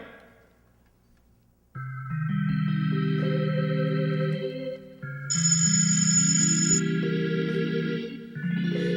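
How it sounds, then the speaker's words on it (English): A telephone rings in an old-fashioned interior scene, its repeated tonal ringing steady and fairly loud, with short pauses between bursts and no voices. "Don't touch that phone. But... Let it ring."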